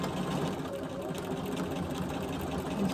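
A sewing machine free-motion quilts wavy vertical lines, its needle chattering in a fast, even, continuous rhythm close by without pause.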